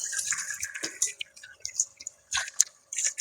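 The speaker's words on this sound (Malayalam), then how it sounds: "ഈ പച്ചക്കറിയൊക്കെ ഒന്ന് മുങ്ങി കിടക്കത്തക്ക രീതിയിൽ നമുക്ക് വെള്ളം ഒഴിച്ച് സെറ്റ് ചെയ്തെടുക്കാം" Water poured into a cooking pot of lentils (parippu) and palak vegetables, giving short splashy pours and drips with a few brief pauses, fairly close and moderately loud, with no talking.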